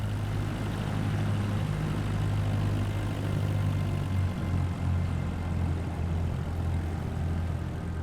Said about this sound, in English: I don't know why this plane picks up so much speed when we're taxiing.